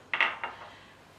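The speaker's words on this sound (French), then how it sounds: "Donc je mélange." Clinks and scrapes of bread dough ingredients, flour with added sugar, being mixed in a bowl, a few sharp close taps in quick succession before fading to quiet.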